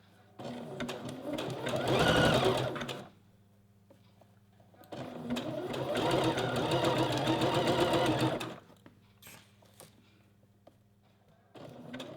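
Sewing machine stitching elastic along a fabric edge in two sustained bursts of rapid needle chatter, each a few seconds long, separated by quiet pauses, recorded close up.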